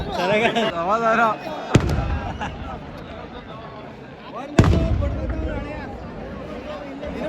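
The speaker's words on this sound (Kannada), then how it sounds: "ನೀವು ಪಟಾಕಿ ನೋಡ್ತಾ ಇದ್ದೀರಾ" Two sharp, loud firecracker blasts a few seconds apart ring out at a night cracker festival at Siddaganga Mutt, cutting through crowd babble while an amplified voice speaks.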